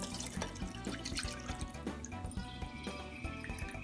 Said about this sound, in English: Then I've got this mesh flush against the top, if I can show you, and then I just pour it through.